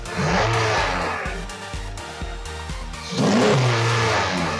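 A 2016-2021 Honda Civic 2.0L with a Weapon-R aftermarket intake revs up from idle, its roar climbing, settling, then surging again, close by and loud with no talking.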